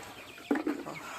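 A 35-day-old farm chicken gives one short, fairly close cluck against a quiet hum from the poultry shed.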